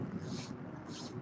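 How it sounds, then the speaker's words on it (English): Crackling, hissing discharge from a high-voltage aerial wire, heard as broadband static with two brighter hissy surges over steady wind-like noise, outdoors and close. "That's the sound of coronal discharge."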